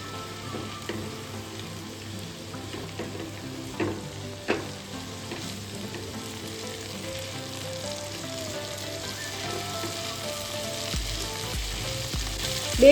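Carrots, boiled corn and red and green capsicum fry in a pan with a continuous close sizzle, broken by a few sharp stirring scrapes.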